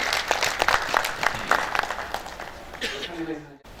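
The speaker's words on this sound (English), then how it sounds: "A round of applause once again for Mr." Applause at an annual assembly of registered quantity surveyors: a short burst of scattered, fairly close clapping that thins out and stops near the end, with a voice speaking over the last moments.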